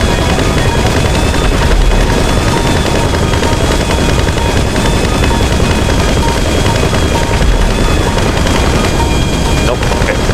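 Dense, continuous gunfire and booming explosions from a GTA 5 Online Doomsday Heist mission, loud and unbroken throughout with helicopter noise mixed in.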